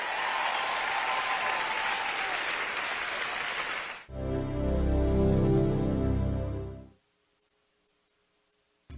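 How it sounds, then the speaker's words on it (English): Audience clapping, a full, steady burst of applause from a crowd for about four seconds, then cut off as music takes over and fades to silence. "Somebody clap if you believe that."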